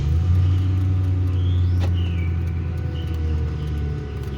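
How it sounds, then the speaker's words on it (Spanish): A Ford car with a cylinder misfire starts up, the engine rumbling loudly and steadily into a low idle that holds with a slight unevenness, close by and with no talking. "Voy a prender el carro."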